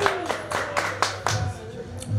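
Small comedy show audience in Richmond, Virginia clapping, a handful of uneven, distinct hand claps close by, thinning out toward the end.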